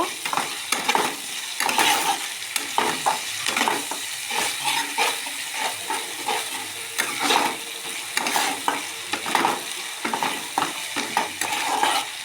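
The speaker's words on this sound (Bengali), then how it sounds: "জিরে বাটা আদা বাটা সমস্ত মশলা দিয়ে বেশ ভালো করে কষে নেব" Spice paste of garlic, cumin and ginger being sautéed in a pan for a pointed gourd and prawn curry: a continuous sizzle broken by frequent scraping stirs, close and fairly loud.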